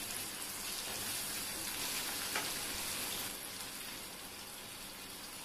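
Chopped onions with turmeric fry in an oil-filled pan for a Hindi home-style methi and bhindi masala, giving a steady, moderately quiet sizzle that holds evenly throughout with a faint brief clink near the middle.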